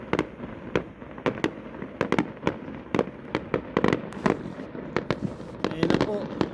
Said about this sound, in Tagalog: nag-start na po ang fireworks dito sa